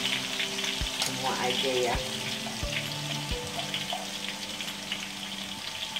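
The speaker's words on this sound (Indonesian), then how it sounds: "kita goreng hingga setengah matang aja ya" Tempe sizzles loudly in oil over high heat, a constant crackling fry broken by several dull knocks from stirring, with a brief spoken phrase early on.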